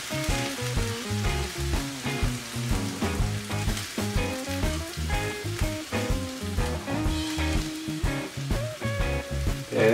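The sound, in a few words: beans and potatoes sizzling in pan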